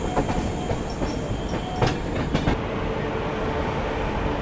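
Rail noise from the Mysore–Chennai Shatabdi Express rolls steadily and close, with a few sharp clicks and squeals from the wheels over the joints, and no voices.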